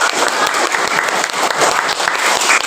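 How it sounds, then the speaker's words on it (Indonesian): A group of participants at a teachers' coaching session claps together in a patterned clapping game, loud dense hand claps close by with sharp repeated accents running continuously. "Tepuk 1 kali, tepuk 2 kali, tepuk 3 kali"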